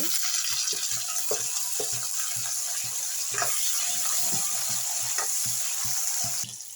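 Curry leaves, onion and green chillies frying in a pan for rava vangi bhath give a close, steady sizzle, with repeated rhythmic stirring scrapes throughout and no talk.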